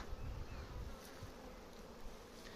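Honeybees busy at a woven basket skep hive during a hive check, a steady dense buzzing hum from many bees close by, continuous and even throughout with no voices.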